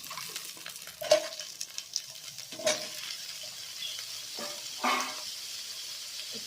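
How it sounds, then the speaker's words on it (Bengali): Pieces of three medium potatoes fry quietly in a pan for a vegetarian cabbage curry, with a soft sizzle and a few brief stirring scrapes, no talk. "আগে থেকে কেটে রাখা আলুর টুকরোগুলো এখানে অ্যাড করছি"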